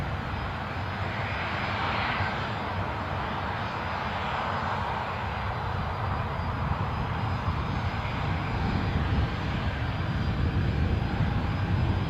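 Jet2 airliner taking off at Newcastle Airport, a broad sustained engine roar heard from a distance, steady and loud for the whole stretch with no voices.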